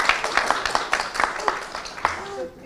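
An audience applauds a chairman at a breast cancer awareness event, with steady rhythmic clapping that fades out as a voice begins over it.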